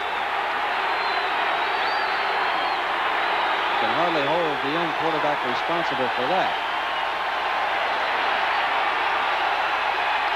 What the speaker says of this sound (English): Crowd distracting Rein, and he's asking the official for a discretionary timeout